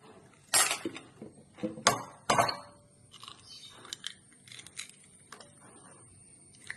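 Eggs cracked into a bowl of oats, salted for an oats omelette with pepper, tomato and green chilli, giving a few sharp knocks and clinks on the bowl rim at the start, followed by fainter scattered taps and scraping, with no talk.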